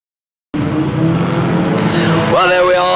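Race cars on the Bovingdon Raceway track roar in loudly after a brief silence, engines droning steadily and then rising in pitch as a car accelerates past, with a commentator talking over them.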